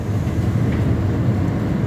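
A Class 707 City Beam electric train runs between Hither Green and Dartford, heard from onboard as a steady low rumble of wheels and motors, continuous and fairly loud, with no talk.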